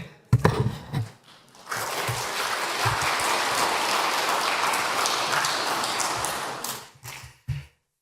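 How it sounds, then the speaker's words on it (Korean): A Korean church congregation applauds the pastor after his sermon at a worship service; a burst of loud, dense clapping sustains for about five seconds, with brief speech before and after. "은혜로운 하나님 말씀 전해주신 우리 목사님께 한 번 더 우리 박수 한번 드리겠습니다"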